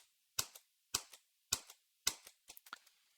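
Computer keyboard keys pressed while the Control key is held and the left arrow is tapped: four sharp, evenly spaced clicks, each with a softer release, then a quick cluster of lighter taps, close and clear with no talk.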